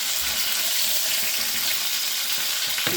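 Hot cooking oil pops and sizzles in a pan during home frying on a rainy day, a dense, loud, steady hiss with scattered crackles filling the whole stretch, no one speaking.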